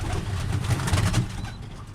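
Birmingham Roller pigeons, young birds on the ground, give soft low repeated coos close by, with faint background noise and no talk.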